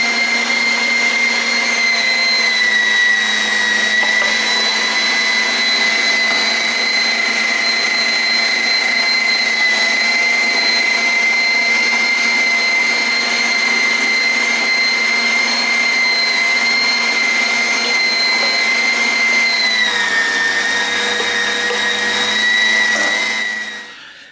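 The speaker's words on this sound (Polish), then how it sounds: "mielimy wołowinę na 2. Do tego dosypujemy cały czas czosnek." Electric meat grinder mincing beef with garlic added for homemade sausage, a steady loud motor whine with sustained tonal hum lasting throughout, pitch dipping slightly near the end before stopping.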